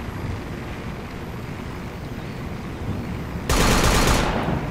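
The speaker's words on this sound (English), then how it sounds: "Gunship 200 meters south." A helicopter gunship in a combat video game drones as a steady, rumbling roar, then swells into a louder, harsher rush for the final second.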